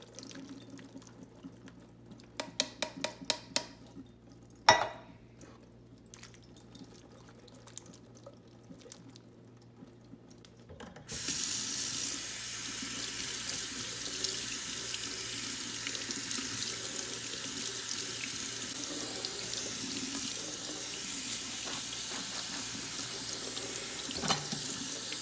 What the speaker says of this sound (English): Now you're going to want to drain and rinse your black beans.